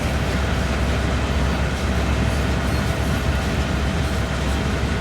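A train runs steadily along the old Horseshoe Curve route in the video game Train Sim World 4, giving a loud, continuous rumble and rail noise with faint clickety-clack and no talk.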